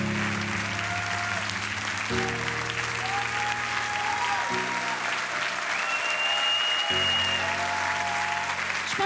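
Audience applause in the studio of a French TV talent show, steady clapping throughout under sustained musical chords and tones.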